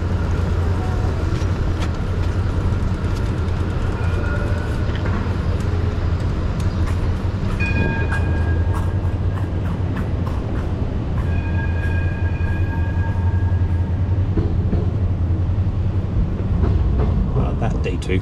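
A Melbourne tram rumbles through a city intersection, with a steady low drone, brief metallic wheel squeals and street traffic around it, heard close up.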